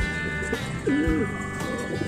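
Pigeons coo at close range in a short, quiet burst, one soft rolling call standing out midway over a low background hum with no talking.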